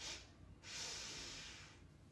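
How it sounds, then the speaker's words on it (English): A deep diaphragmatic inhale, close and breathy, drawn in two airy pulls: a short intake, a brief pause, then a longer sustained breath. "Expanding, diaphragmatic breathing,"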